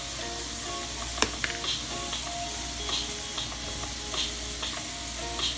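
Peppers frying in a pan for pineapple shrimp fried rice, a steady close sizzle with occasional stirring scrapes and light clinks throughout, no talking.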